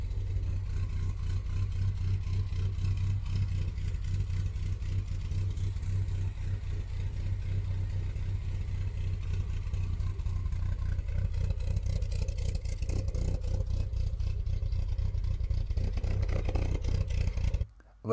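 Engine of a Triumph Herald being revved, heard as a low, rough, clattering rumble that holds steady for a long stretch before cutting off abruptly at the end.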